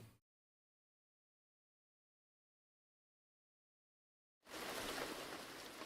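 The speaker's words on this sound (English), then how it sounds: "The rain is so nice." Steady broadband rain noise in the video game Last Report, entering abruptly after several seconds of silence and holding at moderate level without talk.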